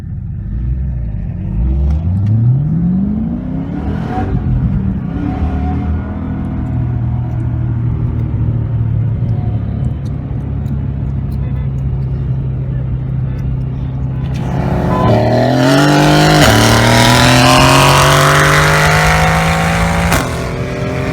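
Two cars race from a roll, a 650 hp Whipple-supercharged Chevrolet SS against a tuned 2017 AMG C63 S, with a loud engine drone that climbs through the gears, then a surge of louder revving and rising whine near the end.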